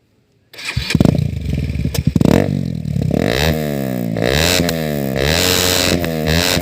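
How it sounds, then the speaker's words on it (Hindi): A modified, remapped Bajaj Pulsar NS 200 motorcycle with an Akrapovic exhaust starts up after a moment of silence, then revs loudly and repeatedly up and down, its exhaust note rising and falling close by. "और एग्जॉस्ट की आवाज़ मैंने आपको सुना दी है।"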